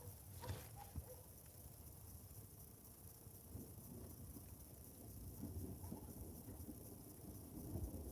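Low, faint rumbling of distant thunder from an approaching thunderstorm in Burgundy, France, rolling under a steady hiss of wind and background noise, with no voices.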